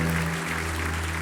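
A church congregation claps during a sermon, a steady wash of applause over a constant low electrical hum.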